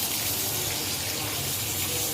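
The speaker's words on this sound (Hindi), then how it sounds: "इसको मैं 2-3 पानी से धो के गाड़ के अलग कर लूँगी कटोरी में" Food is rinsed in a bowl of water in a home kitchen, giving a continuous soft rush and slosh of water with no talking.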